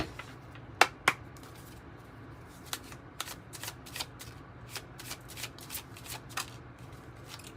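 Tarot cards are shuffled up close with an irregular run of crisp riffles and soft taps, two sharper snaps near the start, over a quiet room with no talking.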